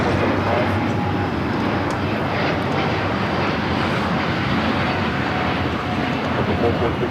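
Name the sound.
Delta Airlines Airbus A350-900 taking off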